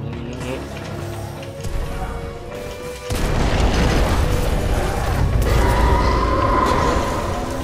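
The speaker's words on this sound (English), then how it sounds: "A series of explosions just weakened the manipulator arm." A series of explosions rips through a facility in Titanfall 2, weakening a giant manipulator arm: mechanical rumbling builds into a loud, sustained roar of booming blasts and crashing debris that continues to the end.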